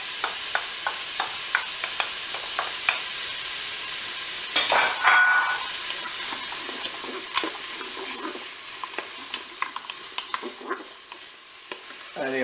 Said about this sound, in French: je vais faire revenir mes oignons quand même et ma viande